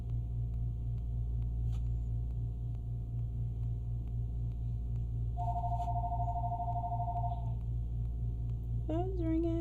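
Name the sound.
phone ringing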